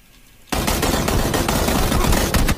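Rapid automatic gunfire in a shooter video game erupts suddenly after a quiet start and keeps rattling loudly and densely to the end, with no talk over it.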